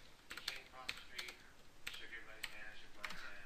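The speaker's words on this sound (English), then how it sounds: "click on the address bar and type in the" Keys tapped on a computer keyboard while entering text into a web browser's address bar: quick, light irregular clicks in short bursts, quiet and close, with a faint murmur in the background.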